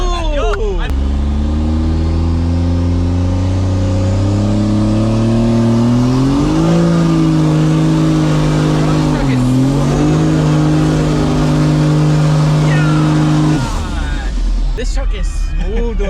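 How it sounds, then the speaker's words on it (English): A custom 6x6 truck at a Miami truck meet holds a loud, sustained engine roar during a burnout, its pitch climbing and dipping with revs before dropping off near the end, with a voice talking over it. "This truck is smooth doing a burnout"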